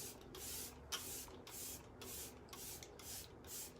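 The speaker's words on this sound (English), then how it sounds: "I'm gonna go in with our Let It Set Refreshing Spray and just spray my face" Arbonne Let It Set refreshing setting spray is misted onto a face in about seven quick hissing pumps, each a short close burst of spray, with no talk.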